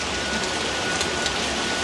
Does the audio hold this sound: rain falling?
yes